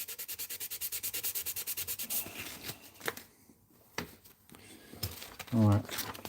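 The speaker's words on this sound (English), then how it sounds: "So I'm sanding it back now." Hand sanding of an epoxy guitar pick to remove scratches, heard as a quick regular run of rasping strokes for about two seconds, then scattered scrapes and rubs with a few louder knocks near the end.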